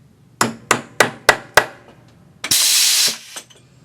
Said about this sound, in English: By putting that nail and hammering it into place